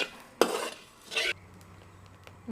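Coriander seeds being dry-roasted in a pan, with two short bursts of scraping and stirring against the metal, separated by quiet stretches and a faint low hum.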